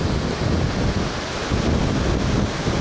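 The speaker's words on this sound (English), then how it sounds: "the wind is pushing on the viewfinder here just a little bit" Steady wind buffeting a camera on a tripod outdoors, a loud continuous rumble across the whole clip with no voices.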